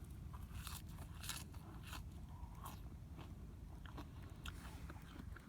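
Close, crisp crunching bites into raw mustard greens picked in a fall garden, a few sharp crackly bursts over steady low outdoor background noise, with no talking.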